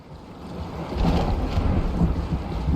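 Underwater thunder in the video game SOMA rolls as a deep, muffled rumble that swells and stays heavy, close and continuous, with no voices.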